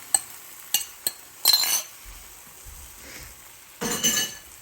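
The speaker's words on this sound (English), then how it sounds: "I'm gonna go ahead and just throw the eggs right in there" Seasoned beaten eggs poured into a hot skillet for a soyriso and egg dish, giving a few sharp utensil clinks and bursts of sizzling, close by, with quiet gaps between them.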